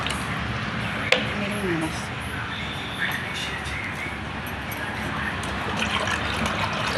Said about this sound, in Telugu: 1/2 బకెట్కి నీళ్ళు తీసుకొని